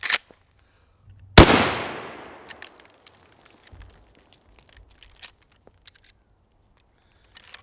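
One sharp, loud rifle shot from a 30-30 Winchester rechambered to 30-30 Ackley Improved, fired at a shooting range, with a long echoing decay. Small clicks and handling sounds follow.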